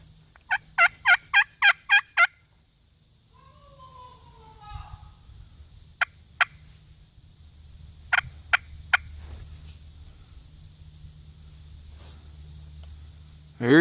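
Wild turkey gobbling in the woods, with a rapid rattling burst of gobbles near the start, then a few sharp isolated calls, moderately near over a low background hum.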